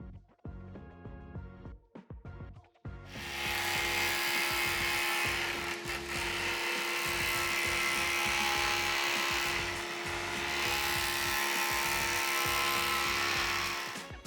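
A wood jointer cuts a cracked live-edge scrap board. A few clicks come first, then the motor spins up into a loud, steady whine and planing roar that holds for about ten seconds with slight swells as the board feeds across.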